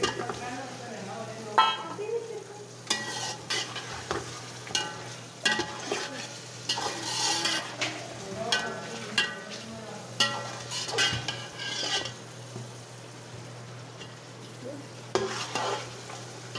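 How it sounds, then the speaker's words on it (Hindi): Boiled meat frying and being stirred in spice masala in a pan, with repeated scraping strokes of a spoon over a steady sizzle, close by, with no talk. "पाँच मिनट तक इसमें गोश्त भूनूंगी इसी मसाले में"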